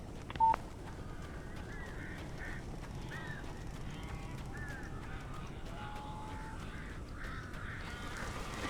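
Birds in the video game Alan Wake give repeated harsh caws and honking calls against a low, steady ambient rumble, with one sharp knock near the start.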